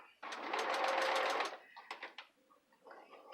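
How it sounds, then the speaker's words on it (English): A sewing machine stitching fabric runs in a steady, close, fast rhythmic whir for over a second, then stops. Afterward come a few short clicks and soft mechanical bursts, followed by a voice speaking quietly. "You're sewing and you're sewing and you're sewing"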